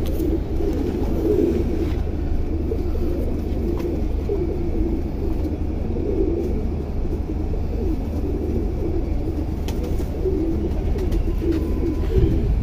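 Golden pigeons, Indian jaldar kabootar, coo in a steady low murmur throughout, close and continuous, with several birds overlapping and no pauses.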